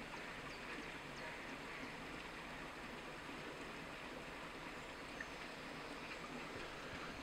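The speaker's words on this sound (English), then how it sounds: "You see the bubbles exploding out of the ground." Spring water bubbles up out of the ground at St Patrick's Well in Clonmel, County Tipperary, a soft continuous gurgling wash heard from a slight distance at low volume with no talking.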